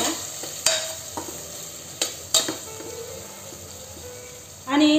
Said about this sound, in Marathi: आता हे छान परतून घेऊया